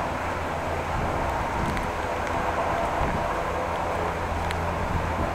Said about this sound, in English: Wind is still pulling on the umbrella.